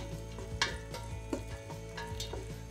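Onion softening in a pan with a little salt, for a hangover soup, giving a low steady sizzle with occasional faint clicks of a spoon stirring, quiet and close.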